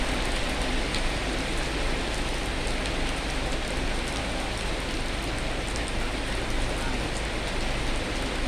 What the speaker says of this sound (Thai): ฝนก็ตกนะฮะ